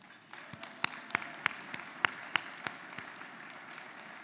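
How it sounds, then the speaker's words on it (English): Scattered applause at a housing awards ceremony, a handful of distinct sharp claps spaced irregularly over a quiet room, fairly sparse and not building into a full ovation. "Please give a round of applause."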